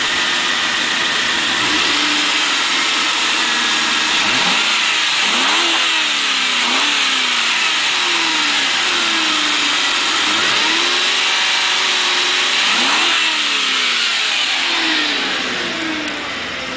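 A Ford Crown Victoria Police Interceptor with factory exhaust revs repeatedly, its engine rising and falling in several close, loud sweeps over a steady idle rumble, with no talking.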